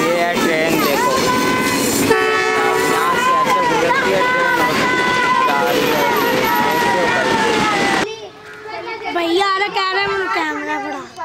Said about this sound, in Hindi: ये आ रही है ट्रेन आपको भी दिखाते हैं हम लोग ट्रेन आ रही है